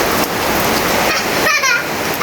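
Rain falls outside a balcony in a dense, steady, loud hiss that lasts the whole time, with a voice and other voices under the downpour.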